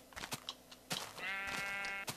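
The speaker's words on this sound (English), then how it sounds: "And I see a sheep right over there," Sheep bleating in the Minecraft video game, a sustained wavering bleat following a few short clicky game sounds, fairly close and clear with no talk over it.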